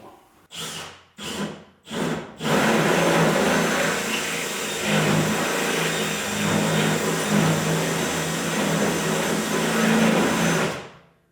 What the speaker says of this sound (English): And then you just try to drill on this one